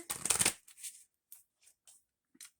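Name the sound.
shuffling tarot cards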